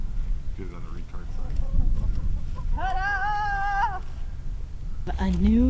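Chickens in a pasture chicken run give a few clucks and one drawn-out squawk amid outdoor background noise, with people talking nearby.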